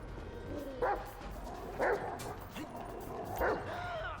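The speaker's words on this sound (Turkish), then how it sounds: "Bu köpek yakalar lan onu." A dog in the video game GTA 5 gives three sharp, separate barks while chasing someone, over a steady low game background, with someone talking quietly at times.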